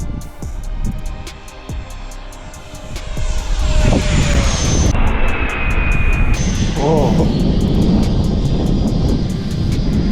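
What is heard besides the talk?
remote-controlled model jet aircraft flying at full speed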